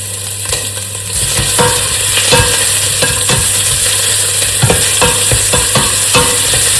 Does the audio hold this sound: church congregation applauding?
no